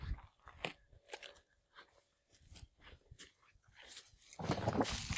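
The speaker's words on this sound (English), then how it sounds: "And there's a puppy doggy." A puppy chews and bites outdoors at a remote wilderness island cabin site, giving close, irregular crunches and gnawing clicks that grow busier and louder toward the end.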